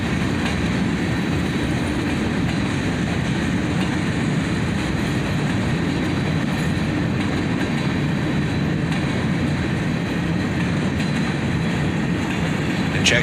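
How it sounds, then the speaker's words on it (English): Northbound Norfolk Southern freight J782 out of Cincinnati, hauled by EMD locomotives, rolls past with a steady low rumble of wheels and cars and faint clickety-clack, continuous and fairly close. "This northbound was train J782, heading north out of Cincinnati"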